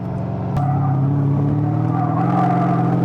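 A 700-horsepower Corvette engine drones loud and close at about 2,000 RPM as the car drifts sideways up a hill on a track, holding a steady low growl that swells slightly after a brief knock.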